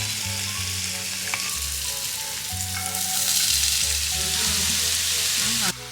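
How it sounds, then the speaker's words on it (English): Onion sautéing slowly in a pan for samosa filling, a steady close sizzle and crackle that runs without a break and swells slightly toward the end, with no talking. "The filling is simple, onion sauteed slowly."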